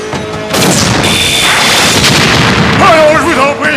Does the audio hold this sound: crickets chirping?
no